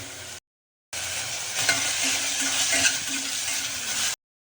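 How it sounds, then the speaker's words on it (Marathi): Ground spice masala roasts and is stirred in hot oil, giving a steady, close sizzle with scraping stir strokes and no talk. "या पद्धतीने मसाला चांगला आपण खरपूस अशा तेलात भाजून घेऊया."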